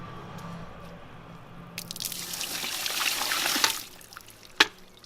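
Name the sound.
dirty black water tipped into a drain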